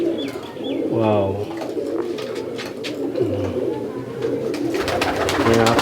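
Pigeons in a loft in Murshidabad coo repeatedly with low, rolling calls over a steady hum of many birds and ambient noise; a voice is faintly present.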